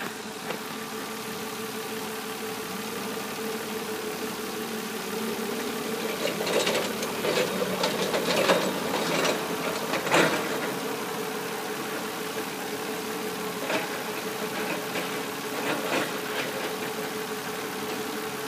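A 2004 Nissan Maxima with the 3.5 engine idling, a steady low hum with a faint ticking texture, slightly louder midway, heard nearby without talk.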